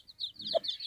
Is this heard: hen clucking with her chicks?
yes